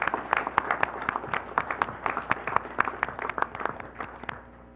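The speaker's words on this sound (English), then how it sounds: "Will you all join me in a round of applause for them?" A room full of people at a transit agency board of trustees meeting gives a steady round of applause, dense overlapping claps holding for several seconds at moderate distance.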